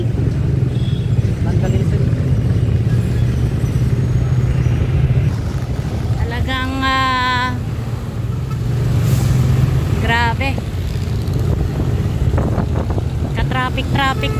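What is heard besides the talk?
Manila city traffic, cars and engines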